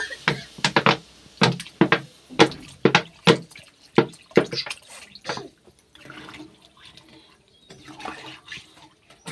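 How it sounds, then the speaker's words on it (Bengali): Water poured into a pot of potatoes and fried spices: quick, fairly loud splashes and glugs come close together at first, then settle into softer trickling and sloshing. "পরিমাণ মতো জল দিয়ে দেব।"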